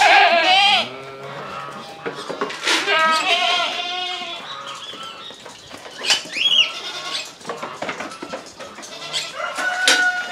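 Dairy goats on a goat farm bleat loudly and often, several animals calling close by and overlapping in quick succession.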